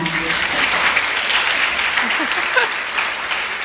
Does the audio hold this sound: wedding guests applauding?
yes